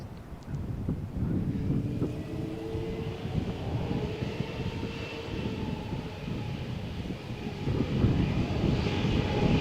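An EasyJet airliner on its flight from Malaga to Amsterdam roars from Malaga Airport on a stormy morning, a broad steady jet rumble with wind buffeting the microphone, sustained and fairly close throughout.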